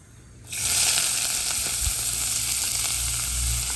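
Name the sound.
onions frying in oil with chilli and ginger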